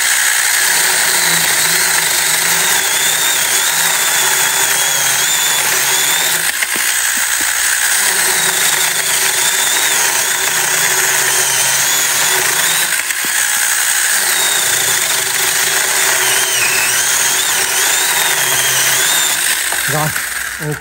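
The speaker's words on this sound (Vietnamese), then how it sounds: "em cưa cái cây cho anh em xem thử luôn nha" A small power saw cuts through a tree log thicker than a wrist, giving a loud, continuous high-pitched motor whine with slight dips in pitch as the blade bites into the wood.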